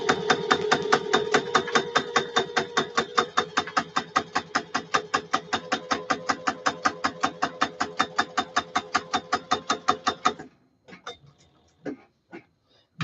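Sewing machine stitching a half-inch seam on a leather vest, a steady train of sharp, evenly spaced needle thumps for about ten seconds before it stops, followed by a few scattered clicks.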